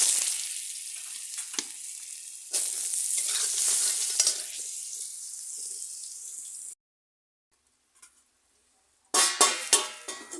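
Cut potatoes go into a hot pan for a batata poha dish and sizzle loudly. A spatula scrapes and stirs through the frying, then the sound drops to near silence before a final burst of sizzling and stirring.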